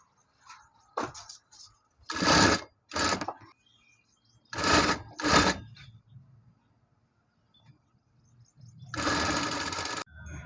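A sewing machine stitches a folded hem on a flared skirt, running in several short bursts of fast mechanical whirring separated by pauses, close and loud, with a longer final run and no voices.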